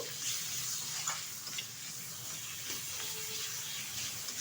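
Masala sautéing in a pan with tomato and ginger garlic paste for a mutton fat dish, a soft continuous sizzle and hiss with faint stirring scrapes, quiet and close with no talk.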